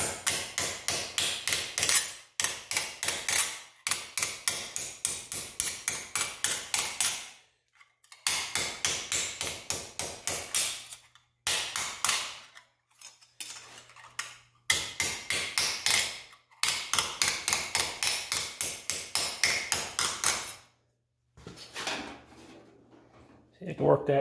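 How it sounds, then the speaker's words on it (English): Rapid runs of metallic taps from a ball peen hammer striking a metal panel held over a vise, close and sharp, in bursts of steady rhythmic blows separated by short pauses. "Just using a simple ball peen hammer."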